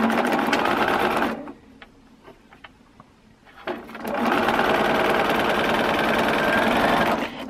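A sewing machine stitches blue quilt pieces in two busy runs, one at the start and one at the end, separated by a short quiet stretch with a few light clicks. No one speaks.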